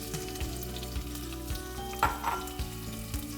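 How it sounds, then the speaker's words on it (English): Diced Vidalia onion hitting a hot frying pan and sizzling steadily, with a few stirring scrapes and low kitchen hum beneath, close and moderate, no talk. "I'm going to take some Vidalia onion that I diced up, and I'm going to add that to the pan"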